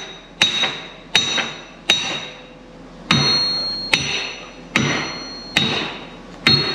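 A big hammer bangs on a pin in the drawbar of a Massey Ferguson 8670 tractor, eight loud, sharp metallic strikes at uneven intervals, each ringing briefly before the next blow.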